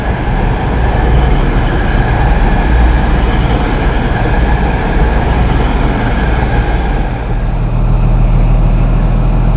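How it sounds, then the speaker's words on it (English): East Midlands passenger train on the Nottingham to London St Pancras service at Leicester station, heard as a loud, steady rumble of engine and wheels close by for the whole clip, with a faint high whine above it and no talk. "Just coming into the station now, the 1535. East Midlands of Nottingham to London St Pancras"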